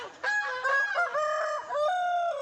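A village rooster crows loudly and close by in one long, wavering cock-a-doodle-doo that stands alone against a quiet background.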